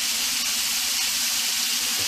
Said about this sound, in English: So we're going to let them sear nicely on each side